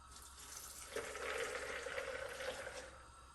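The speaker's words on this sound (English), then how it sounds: "we're gonna add our water" Water pours steadily into a pot or blender for Jamaican peanut porridge, a continuous soft splashing rush that swells midway and then eases off, with no talking.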